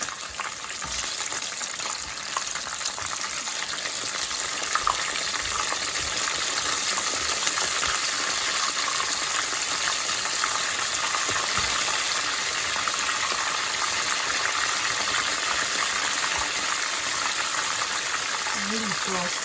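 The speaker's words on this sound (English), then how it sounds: "Leave those to fry until they're ready to turn over on the other side." Buffalo chicken wings frying in hot oil, a constant crackling sizzle with occasional sharper pops and clinks, steady throughout while a voice talks intermittently over it.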